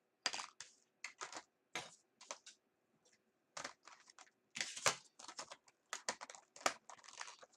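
Pokémon trading cards from the Steam Siege set being put back into a metal tin: a close series of short dry rustling, shuffling and clicking bursts separated by brief pauses, with no talking.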